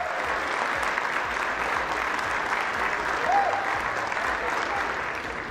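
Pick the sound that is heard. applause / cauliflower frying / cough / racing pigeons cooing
applause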